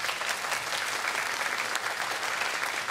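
An audience at a music festival gives the musicians a steady round of applause, dense and even, with faint voices beneath.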